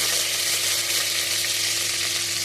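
Curry leaves, with mustard seeds and cumin, sputter in hot oil in a pot for a dal tempering, making a loud, continuous close-up sizzle and crackle with no talk.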